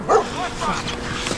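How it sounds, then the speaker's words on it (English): Puppies barking and yipping up close, a quick cluster of high sharp yips and whimpery barks in a short burst, with a voice mixed in. "It's not them, it's the puppies!"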